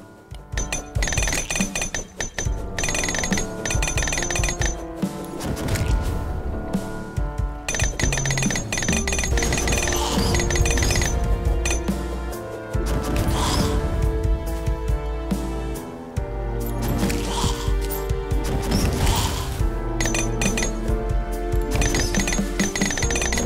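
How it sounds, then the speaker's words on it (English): A mining drill in the video game Terraria Calamity grinds through Auric ore, giving dense, sustained buzzing and clinking bursts that run nearly nonstop over a long stretch with short gaps, loud and close, with no talk. "other mining drill will actually mine this without an issue."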